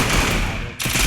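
Rapid video-game gunfire in a squad battle royale match, dense automatic bursts filling the short moment, loud and close with a brief dip before shots resume.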